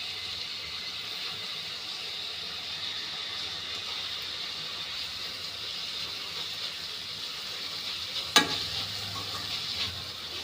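Coriander and mint are stirred into egg biryani frying in a pan, a steady soft sizzle with faint stirring scrapes and one sharp clink near the end.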